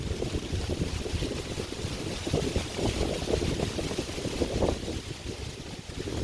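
Heavy wind buffets the microphone, producing a continuous low rumbling roar that stays loud throughout with no clear speech.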